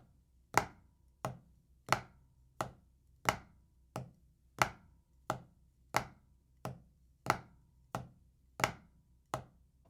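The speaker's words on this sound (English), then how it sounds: "Now the second one is going to be a Flam Tap." Flam tap drum rudiment played with sticks on a practice pad: sharp, evenly spaced paired strokes repeating steadily, about a dozen accented taps with a soft grace note before each, close and clear with no talking.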